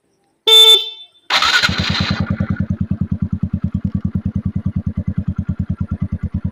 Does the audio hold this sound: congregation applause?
no